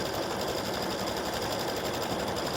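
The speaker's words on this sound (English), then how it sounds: "it's stitching the awareness ribbon design, and it will go all the way to the edge" An embroidery machine stitches an awareness ribbon design onto a small in-the-hoop coaster, giving a steady, loud, rapid mechanical whirr and needle chatter that runs unbroken throughout with no talking.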